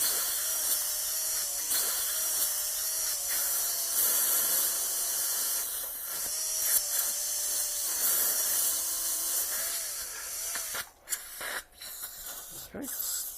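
A dental implant drill spinning at 1800 RPM prepares an osteotomy site, giving a continuous hissing whine with water spray, fairly faint and steady, with brief interruptions near the end.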